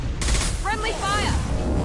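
Gunfire from a Mass Effect battle crackles steadily across the whole moment, a dense, continuous barrage mixed with a shouted voice over the top.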